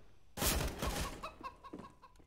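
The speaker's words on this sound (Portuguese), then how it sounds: "Galinha desgraçada!" Video game chicken clucking in short squawky bursts after a sharp onset, fairly close and loud, fading into scattered lighter clucks with faint game ambience beneath.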